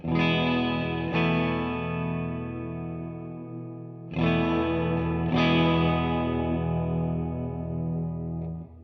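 Distorted electric guitar through a Keeley Caverns V2 pedal on its modulated reverb setting rings out in two pairs of strummed chords, each left to sustain and swell with a lush, wavering tail, loud and alone.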